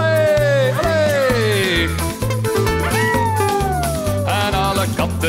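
Cats meowing along in a Dutch children's song, with repeated sung meows gliding over a bouncy bass and brass accompaniment, loud and continuous throughout.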